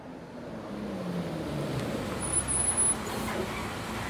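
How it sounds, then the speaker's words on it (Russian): A bus pulls up with its engine idling in the visual novel game Everlasting Summer, a steady low engine drone at moderate level with a brief hiss of brakes near the end. "Звук работающего двигателя вернул меня к реальности."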